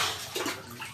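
A person wades into cool water at the bottom of a well, making close splashing and sloshing with a brief surge of churning water partway through, with no speech.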